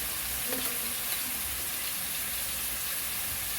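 Chicken pieces frying in a pan for a gravy curry are stirred, giving a steady, close, broadband sizzle with a few brief scraping touches early on and no talking.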